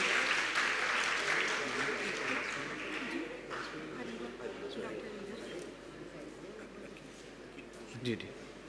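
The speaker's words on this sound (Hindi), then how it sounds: "आप लोगों की तालियां होनी चाहिए।" Applause from an audience at a live health program with doctors in Pakistan, a steady, moderately faint wash of clapping that slowly fades, with some voices underneath.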